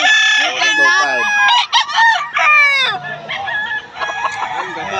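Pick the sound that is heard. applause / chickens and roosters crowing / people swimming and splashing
chickens and roosters crowing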